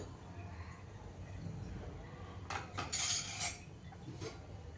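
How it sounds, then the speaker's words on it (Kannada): Metal clatters against a steel cooking pot as a lid is set on during home sambar cooking, a brief clinking scrape midway over quiet kitchen background. "ನಾನೀಗ ಕ್ಲೋಸ್ ಮಾಡ್ತಾ ಇದ್ದೀನಿ."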